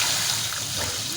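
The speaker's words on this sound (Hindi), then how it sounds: "पानी डाल देना।" Water poured into a cooking pot of browned spices for beef trotters (paya), a steady close splashing pour with no talk over it.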